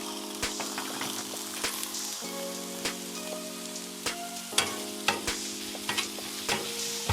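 Philly cheese steak meat sizzles and crackles on a Blackstone griddle, a steady bright hiss with scattered pops and a few light scraping stirs, no voices.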